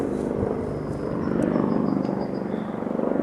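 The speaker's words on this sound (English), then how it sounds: "These helicopters are always getting in my way." A helicopter's low rotor thrum and engine drone hold steady throughout, moderately loud, with no one speaking.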